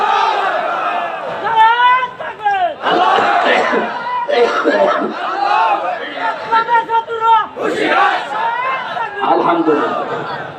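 Crowd at a Bangla Islamic sermon gathering shouting the takbir chant back in loud, overlapping bursts, with a few voices rising above the mass and some chatter between the waves.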